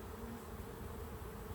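Honeybees buzzing steadily during an inspection of a strong hive, a continuous soft drone of many wings close by with no voices.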